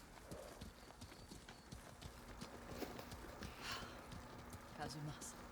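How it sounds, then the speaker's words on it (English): Horse hooves clip-clop in a steady rhythm in the video game Ghost of Tsushima, rather quiet beneath someone talking, with faint game ambience around them. "Okay, mounting on the horse."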